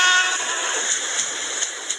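A synthetic-sounding Indian train in a 3D video game rumbles along steadily with a bright, tonal hum, punctuated by a few short rhythmic clacks near the end.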